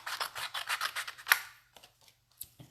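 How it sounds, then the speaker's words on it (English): Scissors snip through paper in a quick run of close, crisp cuts during fussy cutting for a craft project, then a few softer, scattered snips and rustles follow. "I'm going to do a little bit of fussy cutting of these"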